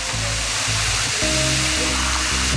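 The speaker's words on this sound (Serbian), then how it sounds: "Tako to je pod vodopada." A waterfall in a rocky wilderness pours steadily with a loud broadband roar of rushing water that stays constant throughout, with a low hum running beneath it.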